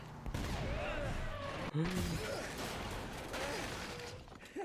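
Gunfire in the video game Uncharted 2, a fast run of sharp shots and impacts amid game battle noise, with a player talking over it.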